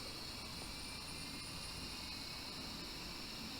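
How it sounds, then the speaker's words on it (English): A Boeing 777 engine spooling up in the Infinite Flight simulator, a steady high whine over a low rumble that holds even and continuous, with no speech. "So we're going to start up engine 2 there, and we can watch that start up while we do other checks."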